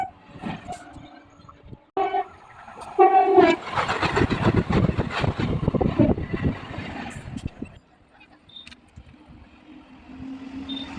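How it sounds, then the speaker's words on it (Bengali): Two trains running together approach with a blaring horn, then a loud rushing rumble of passing cars that fades to quieter background noise. "দেখুন দুটি ট্রেন একসাথে ছুটে আসছে"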